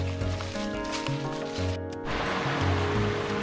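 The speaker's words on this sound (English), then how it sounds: "Pretty little clear creek, little waterfall." A small, clear forest creek with a little waterfall rushes and splashes steadily close by, with a brief lull partway through before the flow noise returns.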